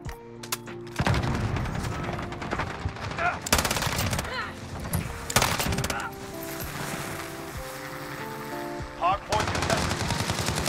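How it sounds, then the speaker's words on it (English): Rapid bursts of light machine-gun fire from the Firewall Finn LMG in Modern Warfare, loud and close, broken by short pauses and mixed with other gunfire. "Stop shooting at me."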